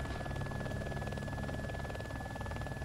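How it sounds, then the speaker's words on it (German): Helicopter in the DayZ Epoch video game, a steady rhythmic rotor thump and engine drone held at constant level with no talk. "Ein Heli, drauf schießen!"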